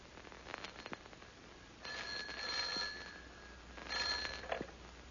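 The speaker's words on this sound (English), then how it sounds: "Almost at once, the telephone rang." Old-fashioned telephone ringing as a radio drama sound effect, two bursts of bright electric bell trilling with a pause between, fairly faint and alone.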